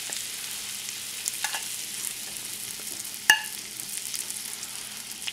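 Lightly floured chicken pieces fry in a pan of oil and butter with a steady, quiet sizzle throughout. A single sharp clunk of a utensil or pan sounds partway through.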